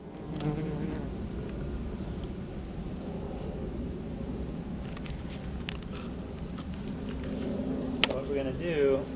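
Honey bees buzz around a hive frame during a honey harvest, a dense, continuous close-up drone with occasional sharp clicks and knocks from handling.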